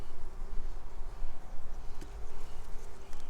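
Honey bees buzz in a queenless hive as frames are handled, a fairly loud, fluctuating drone with a couple of sharp clicks, no voices.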